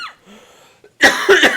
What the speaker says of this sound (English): let's cough.